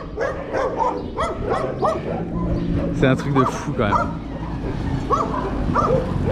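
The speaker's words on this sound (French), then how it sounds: "Ils nous font chier tous ces clébards hein." Several dogs in the town of Morteros, Argentina, bark, yip and whimper repeatedly at moderate distance, while people talk over them throughout.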